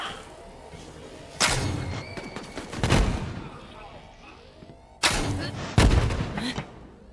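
Gunfire in the shooter game Borderlands 3: several loud, sharp shots and bursts with booming impacts, spaced across the stretch over a low background rumble.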